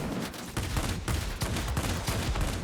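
Rapid, dense bursts of aircraft cannon fire from a World of Warplanes fighter, 30mm guns hammering in continuous loud volleys with no talk over them.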